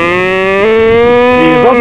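A person imitates a cow with one loud, drawn-out moo, close by. The voice rises and wavers slightly toward the end.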